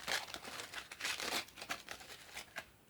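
A large candle being wrapped for a bug-out bag, heard as close, soft crinkling and rustling of plastic wrapping in quick bursts, quiet and alone without talking.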